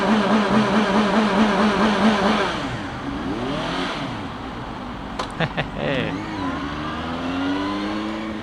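A CFMOTO 750SRS motorcycle engine revs in pulsing bursts, then its pitch sweeps down and back up through gear changes, loud and close, with a few sharp clicks and a voice briefly heard over it.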